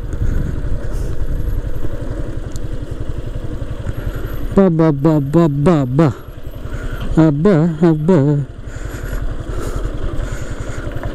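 A motorcycle engine rumbles and clatters steadily on a badly broken hill road near Ooty, heard close throughout, while a voice breaks in with short exclamations over it.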